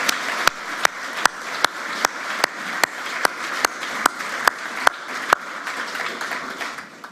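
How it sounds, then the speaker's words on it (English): Audience applause at an awards ceremony for a national final: steady, evenly spaced sharp claps ring out above a wash of broader crowd clapping that continues throughout. "Deborah Maloney and the whole team from REA, I think they deserve a huge round of applause"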